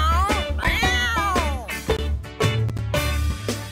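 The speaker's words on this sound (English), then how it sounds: "The girl has a cat, a very old cat." An old cat meows in several short pitched cries over a repeating musical backing, with rising and falling tones heard clearly.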